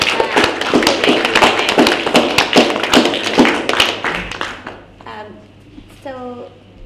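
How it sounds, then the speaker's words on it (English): Audience applause for poet Mary at a poetry reading, a dense, loud burst of many hands clapping for about five seconds that thins out and fades, followed by brief voices. "Applause for Mary."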